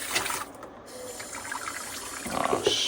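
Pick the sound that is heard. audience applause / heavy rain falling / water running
water running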